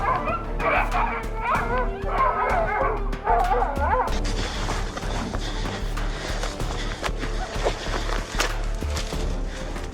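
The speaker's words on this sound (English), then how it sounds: "A deafening bark ripped through the mist" Hunting dogs bark and yip in a misty hillside chase toward a wild boar den, sharp repeated barks over a busy, loud background of rustling and crashing.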